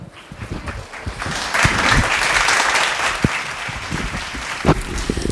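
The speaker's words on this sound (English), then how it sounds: "Please clap for yourself." An audience at a school family talent event of pre-primary students and parents claps steadily, a dense, moderately close patter of many hands swelling slightly and continuing for several seconds.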